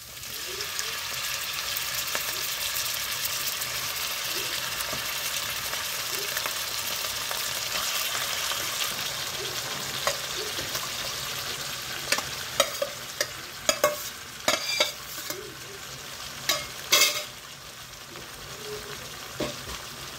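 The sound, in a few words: pork and onions frying and stirred in a pan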